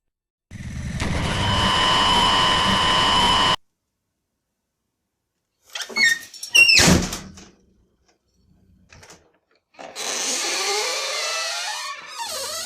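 A door being opened, heard as a few brief clattering bursts set between longer stretches of louder, sustained noise.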